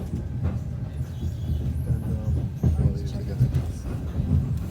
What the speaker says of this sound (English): on the train from Kiev to Lviv